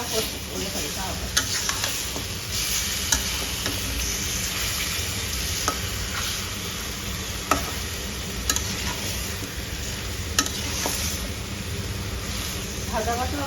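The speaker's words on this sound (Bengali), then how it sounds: "চিকেনটা ভাজা ভাজা করতে হবে।" Chicken pieces fry in a pan for garlic chicken curry, a steady sizzle with occasional sharp scrapes and clinks of a spatula stirring, close and moderately loud.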